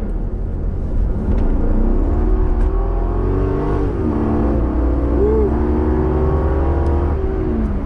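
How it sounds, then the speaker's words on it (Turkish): A Mercedes E60 AMG with a 6-litre V8 revs and pulls away, its deep, rumbling engine note rising and falling through several throttle blips, loud and close with no talk over it. "Bir E60'ın şu 381 PS gücünü ve 6 litre V8'ini bir dinleyelim abi ya"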